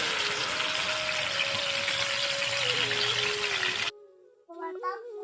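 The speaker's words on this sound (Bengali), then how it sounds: "মশলার পেস্টটা তেলে ঢেলে দিলাম।" Spice paste poured into hot oil for a rohu fish masala curry, giving a loud, steady hissing sizzle that cuts off abruptly, followed briefly by a voice.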